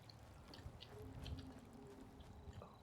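Faint, continuous trickling water inside an enclosed greenhouse in the Fallout 4 video game, a soft steady babble with light splashy detail and no talk.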